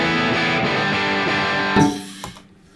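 Electric guitar played through a Shiva amplifier, a dense sustained distorted tone ringing loudly and then cut off sharply, leaving a brief decaying tail with one late pluck.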